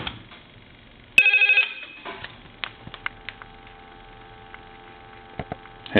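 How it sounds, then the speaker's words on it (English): A desk telephone's mechanical bell rings in one short, loud burst during repair testing. Faint clicks and handling noises follow it over a low hum. "Now, let's ring the telephone."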